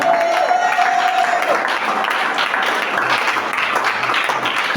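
Church congregation at a French-language worship service applauding and cheering together, a dense, steady wash of clapping with a few voices mixed in, loud and sustained throughout.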